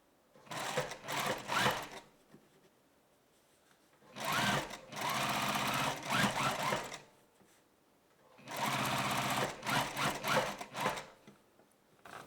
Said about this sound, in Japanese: また仮留めの位置に来たらミシン目の上を縫います。